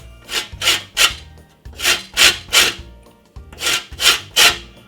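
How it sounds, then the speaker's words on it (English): A lemon is rubbed over a grater in close, rasping strokes that come in quick groups of three with short pauses between groups. No one speaks. "I'm gonna simply grate on my lemon"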